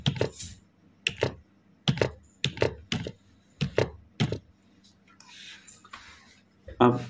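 Keys tapped in short clustered bursts as an account number is entered on a keyboard while filling in an online banking form, close and fairly quiet, with a few soft spoken sounds between the strokes.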